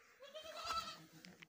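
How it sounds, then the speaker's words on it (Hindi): A goat bleats while giving birth on a farm, a single wavering, strained cry close by, followed by a few faint shorter noises. "ये जी बकरी डिलीवर कर रही है दूसरी।"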